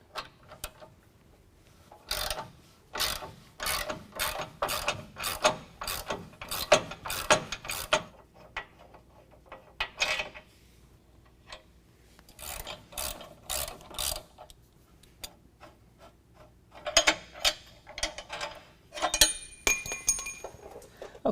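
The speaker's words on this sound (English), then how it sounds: "We're going to use a 24mm to pull the bolt out and also a 24mm wrench to hold the nut on the back side of it." A 24mm socket ratchet removes bolts from the bumper frame of a 2020 Ram 2500. Several runs of sharp, rapid metallic clicking come in separate bursts with short pauses between them.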